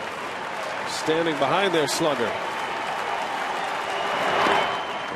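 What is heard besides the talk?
baseball crowd cheering and chanting Casey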